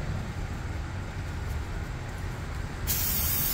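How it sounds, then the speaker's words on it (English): A steady hiss of brake cleaner spray on Subaru Outback rear brake parts bursts on near the end, louder and brighter, over a constant low background rumble. "Spray some brake cleaner"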